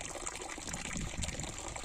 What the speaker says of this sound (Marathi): कंटिन्यू पाणी हे असं वाहत आहे